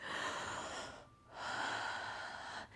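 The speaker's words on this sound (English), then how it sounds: "Before you even step foot in there, breathe slowly," A slow demonstration breath for calming the nervous system: a long, loud, airy inhale, a brief pause, then an equally long exhale, close and alone.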